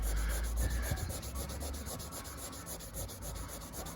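Range Rover L322 headlight lens being polished with cutting paste, a close, continuous rubbing whir with a steady rapid pulse and a low rumble underneath, holding fairly level throughout.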